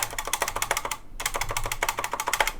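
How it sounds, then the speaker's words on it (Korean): Typing on a silent red switch mechanical keyboard with lubricated stabilizers, a quick run of soft clacks, a brief pause, then another fast burst of keystrokes, close and alone. "저소음 적축 키보드이기 때문에 스테빌라이저 소음이 더욱 크게 느껴질 텐데요"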